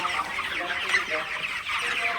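Broiler chickens about four weeks old cluck steadily in a shed in the morning, a dense, continuous chorus of many birds close by with no speech over it.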